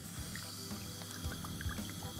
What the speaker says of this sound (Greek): Θα προσθέσω ελαιόλαδο.